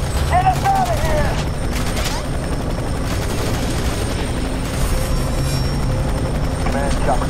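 Helicopter in the F.E.A.R. 3 game thumps and whirs loudly and steadily close by, its rotor drone running throughout alongside gunfire bursts and muffled voices over radio chatter.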